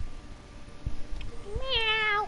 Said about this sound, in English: Oh, black cat. I think Lonesome Pinky lives here. Meow